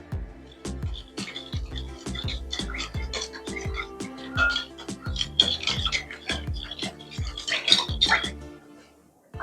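Yeast and sugar are stirred together in a bowl for homemade pizza dough, giving a quick rhythm of repeated scraping and scratching strokes, close and fairly loud, running steadily throughout.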